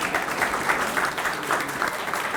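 Steady applause from an audience honoring a museum board at a grand opening ceremony, a dense, even patter of many hands clapping throughout.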